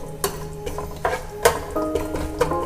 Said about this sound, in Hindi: अब इसको अच्छे तरीके से तेल के साथ फ्राई कर लेंगे